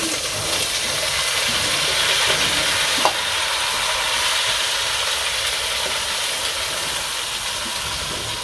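Vegetables tipped into fried moong dal with green chillies in a pan, a loud steady hiss of frying with occasional soft stirring scrapes and one brief clink, no speech.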